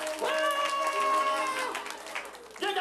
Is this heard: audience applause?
yes